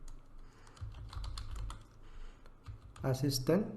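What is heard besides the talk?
typing on a computer keyboard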